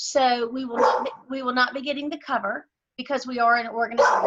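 A dog barks in yips and short bursts indoors during a municipal beautification meeting, its calls mixed in under a woman's continuous speech.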